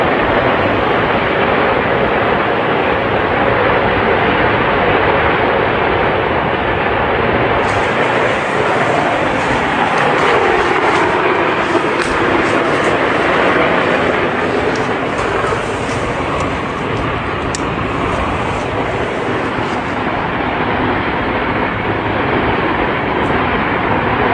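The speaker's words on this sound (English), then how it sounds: "it kind of sounds like it could be a fighter jet that you just can't see because of the overcast cloud conditions" A steady, loud roar of fighter jet engine noise, broad and continuous, passing overhead unseen above overcast cloud, with no voices.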